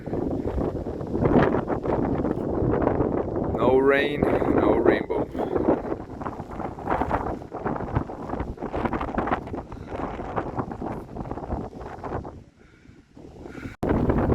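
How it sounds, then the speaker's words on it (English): Strong wind buffeting the microphone in a continuous loud rush in volcanic Portuguese landscape, with a person talking briefly over it. "it's windy as hell"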